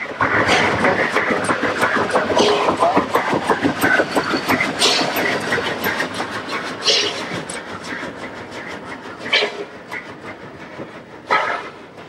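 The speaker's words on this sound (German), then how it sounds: "Der Zug ist bereit." A steam railway train of the Dampfbahnen Zürcher Oberland rumbles and clanks nearby, its dense rolling and rattling noise loud at first and easing off, with sharp hissing bursts and knocks.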